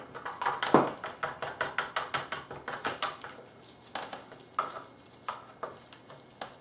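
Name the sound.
resin and hardener being mixed in a container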